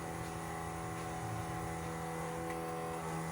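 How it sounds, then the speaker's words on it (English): A 1966 Ford Mustang with a 347 stroker engine sits with its fuel pump priming, a steady, even electric hum and buzz that holds without change throughout. "Let the fuel pump prime."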